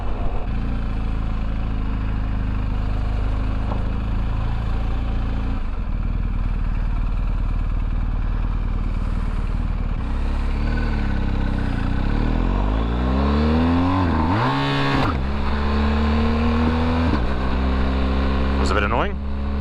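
Engine of a 2020 BMW R 1250 GS Exclusive motorcycle with a quick shifter, a loud steady drone that rises and falls through several rev sweeps as gears change, with wind noise throughout.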